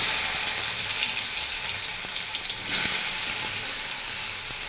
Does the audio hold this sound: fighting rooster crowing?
no